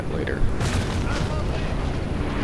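Cannons fire on a Napoleon: Total War battlefield, producing dull distant booms and rumbling blasts layered over a constant roar of battle noise.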